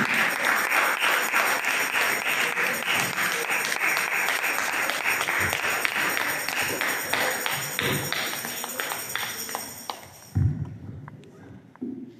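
A church congregation at a seminary gathering applauds for Jesus, loud sustained clapping with scattered cheers that fades near the end before a few thumps.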